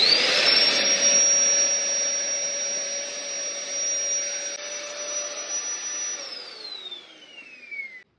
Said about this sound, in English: now I am going to deflate the final chamber